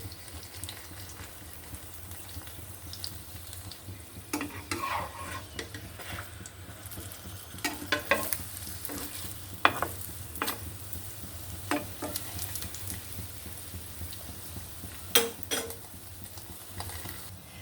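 Paratha frying in hot oil in a pan, a steady low sizzle with scattered clinks, scrapes and stirring knocks from the pan, close and continuous without speech.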